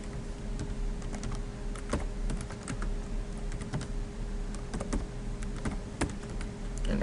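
Keys clatter on a computer keyboard as a password is typed, irregular clicks and short bursts of taps close up over a faint steady hum.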